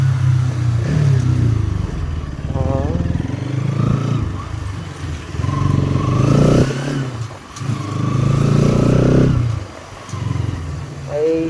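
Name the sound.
Bajaj Pulsar NS motorcycle engine while riding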